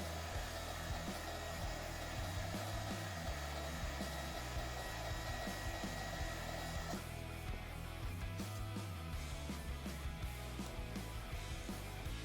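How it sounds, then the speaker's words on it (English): A heat gun shrinks heat-shrink tubing over wires on a scratch-built robot figure, its blower giving a steady, loud whirring hum that runs without a break, with a slight change in tone partway through. "I break out the heat gun and shrink the tubing nice and tight"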